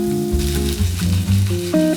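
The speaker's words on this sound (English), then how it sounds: "Now we can brown them off in a large frying pan for around 5 to 10 minutes." Vegan meat substitute pieces browning in a large frying pan hiss and sizzle steadily up close, with a low hum of the cooking under the continuous crackle.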